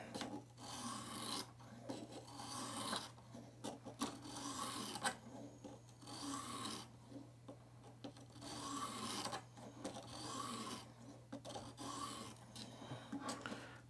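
A knife is sharpened on a Viper Sharp system with repeated rasping sweep strokes, each a few seconds long and separated by brief pauses, steady and close.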